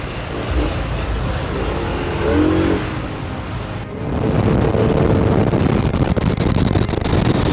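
A 2023 Malaguti Madison 150 scooter is ridden, its engine droning and rising in revs with a brief dip before climbing again, alongside steady wind rush; the sound is close and continuous without talk.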